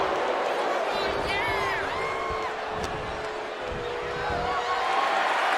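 A wrestling arena crowd in WWE 2K25 roars and cheers steadily in the background while a commentator talks over it throughout.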